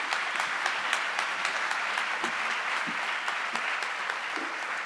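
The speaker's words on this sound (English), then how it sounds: "a big round of applause for SUNY Sullivan and all of the amazing and wonderful things that are happening there" A crowd at the 2017 Sullivan Renaissance Awards Ceremony applauds SUNY Sullivan, sustained even clapping heard from a distance at low level, unbroken for the whole stretch.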